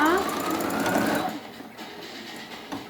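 A sewing machine backstitches at the tip of a fabric vaccination card cover trimmed with bias binding, running steadily and loudly for about a second before stopping, leaving quiet handling noise.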